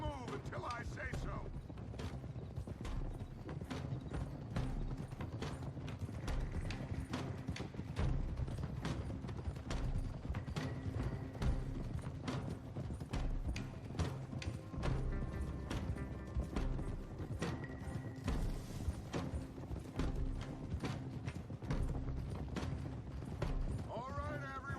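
Several horses' hooves clip-clopping as a group rides in Red Dead Redemption 2, a steady irregular patter of hoofbeats with creaking tack, faint and continuous under low game voices and ambience.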